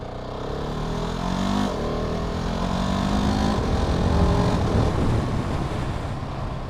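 A Husqvarna 701 Supermoto engine drones steadily and loudly throughout, a continuous close-up roar with slight rises in revs, like riding at speed with wind noise.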